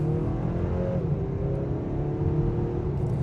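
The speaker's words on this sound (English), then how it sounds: "The engine's got that nice sporty sound to it." A 2024 Acura TLX A-Spec with a 272-horsepower engine accelerating onto a highway, heard from inside as a steady low engine drone with a rising tone that shifts partway through, no talking.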